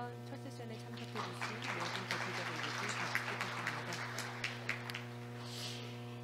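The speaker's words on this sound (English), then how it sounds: "Please join me in giving all participants of the session one a warm round of applause." Audience applause at an international judicial conference, a steady patter of clapping from a seated crowd heard faintly at a distance over a low, constant room hum.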